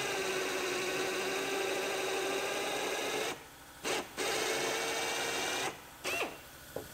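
Drilling out a rivet on a Silverado hood with a 5/16 inch bit: a close, grinding drill whine that runs steadily, stops twice briefly, then resumes and stops again near the end.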